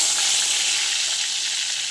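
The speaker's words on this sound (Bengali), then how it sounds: "বেগুনটা ভেজে নেব" Eggplant slices fry in hot oil, giving off a steady, dense sizzle that stays close and even throughout with no other sounds.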